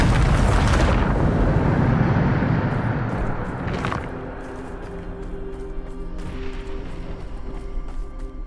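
A Bombarda spell explosion in Hogwarts Legacy bursts with a loud roaring blast, then fades into a second, smaller crash and a lingering rumble with faint crackles.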